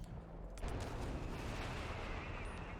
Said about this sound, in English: These double mortars are being a pain in the arse right now.